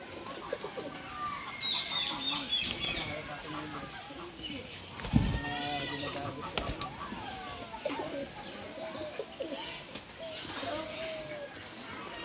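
Doves coo in a bird park aviary in La Union, Philippines, with other birds calling around them, soft and fairly close, while people talk over the sounds.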